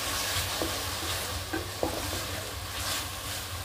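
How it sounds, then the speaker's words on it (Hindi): Grated tomato stirred into browned onion frying in a pan, a soft continuous sizzle with occasional scraping clicks of the spoon, fairly quiet and close, with no talking. "इसको हम चलाते रहेंगे ताकि जो टमाटर है थोड़ा हमारा पक जाए"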